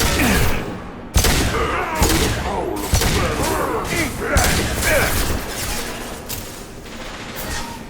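Combat gunfire from the video game Mass Effect 2: sharp, loud shots and bursts crack out repeatedly in an irregular volley, with voices calling out between them.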